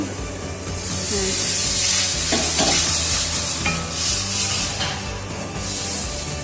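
Loud, continuous sizzle of spice paste frying in a hot pan with a little water added, with scraping strokes of stirring and occasional hissing bursts.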